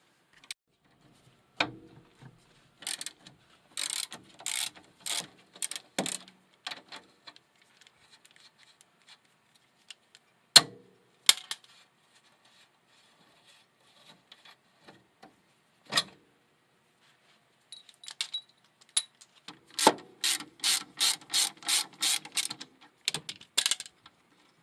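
Bursts of quick ratchet-like clicking from loosening the strut clamp bolts on a 1993 Honda Civic during drive axle removal, with short clusters separated by pauses and a dense run of rapid clicks near the end.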